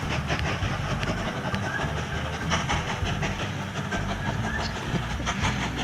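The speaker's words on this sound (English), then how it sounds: "this is maybe the biggest coal train I've put together since the update" A long coal train rolls along in the railway video game Mashinky, a continuous rumbling clatter with rhythmic clickety-clack of wheels and a faint hiss, steady and moderately loud throughout.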